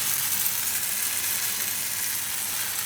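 Strawberry pancake batter frying in oil in a pan on medium heat, a steady close hiss and sizzle continuing without a break.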